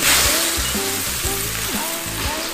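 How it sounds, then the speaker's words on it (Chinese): Bullfrog pieces hit hot oil in a wok and sizzle loudly and continuously, a dense close frying hiss with a few bubbling pulses. "哎，牛蛙下锅，"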